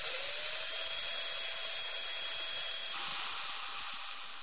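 A dentist's drill whines steadily at close range, a continuous high-pitched electric tone that holds without pause and dips slightly in pitch partway through.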